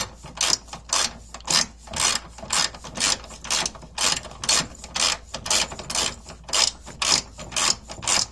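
A hand ratchet loosens 17mm bolts on a car's trailing arm, its pawl clicking in quick steady bursts, about two strokes a second, close and loud with no talk.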